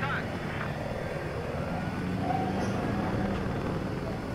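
Helicopter rotor and engine drone in Battlefield 4, a steady, continuous noise holding through the whole stretch with faint game effects over it and no talk.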